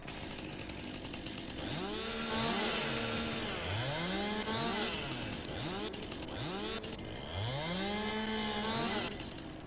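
A chainsaw in the Farming Simulator 19 video game revs repeatedly, its engine pitch sweeping up and down in loud, close bursts over a constant mechanical drone.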